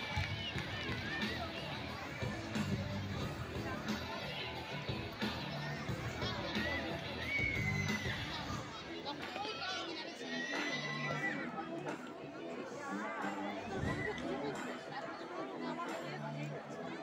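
Crowd of students at a school's annual sports day cheering and chattering for runners on the track, a busy, fairly distant mix of children shouting and excited voices that never lets up.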